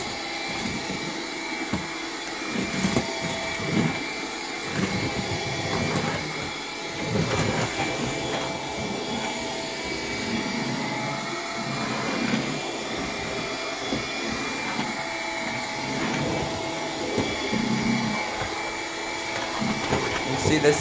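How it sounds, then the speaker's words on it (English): A vacuum cleaner runs steadily for about twenty seconds with a high-pitched, clogged-sounding whine over a rough motor drone, fluctuating as it moves across different surfaces. "It keeps making like a higher pitch, kind of sounding like it's clogged"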